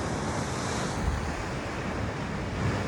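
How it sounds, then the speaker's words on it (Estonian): Sea waves breaking against a rocky coast on Senja island in Norway, a constant heavy roar of surf mixed with wind buffeting the microphone, with no talking. "Saab tulla mere äärde, vaadata, kuidas laine murrab."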